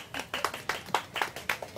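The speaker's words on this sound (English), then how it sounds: "applaud Jenny for coming up" An audience claps for a volunteer named Jenny coming up on stage, a short burst of brisk, fairly close hand claps with no talking over it.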